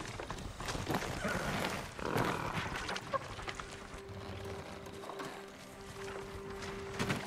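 Horses gallop along in Ghost of Tsushima, a steady clip-clop of hooves running beneath a dense, busy game soundscape with faint ambient layers and no clear talk.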